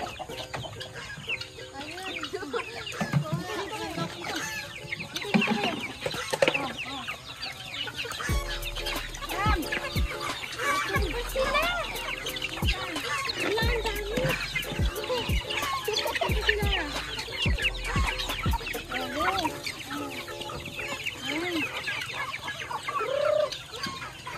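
A flock of chickens clucks and chatters continuously nearby, overlapping calls filling the air with a busy farmyard murmur.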